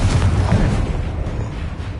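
A Confringo blasting spell explodes in Hogwarts Legacy, a loud, booming burst with a rumbling low end that decays over about two seconds.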